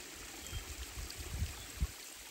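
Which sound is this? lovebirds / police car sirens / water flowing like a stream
water flowing like a stream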